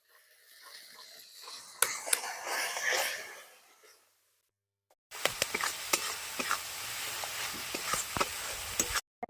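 Spicy masala of red Kashmiri chilli and salt sizzling and crackling in a pan once a little water is added, a loud bright hiss after a brief pause, with occasional stirring scrapes.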